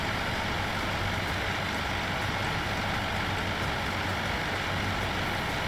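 A Fendt farm vehicle pulling a trailer of alfalfa bales in Farming Simulator 19, a loud steady engine drone and rumble that continues unbroken with no voices.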